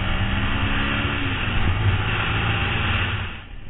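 A Yamaha WR125X motorcycle engine accelerates hard on the road with a steady, loud buzzing drone and wind rush that carries for more than three seconds before easing off at the end.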